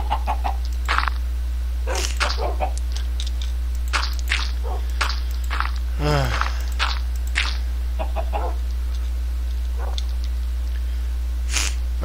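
A chicken in the Minecraft video game clucks in short, scattered bursts across the stretch, close and clear over a low steady hum.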